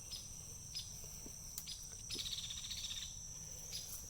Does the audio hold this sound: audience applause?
no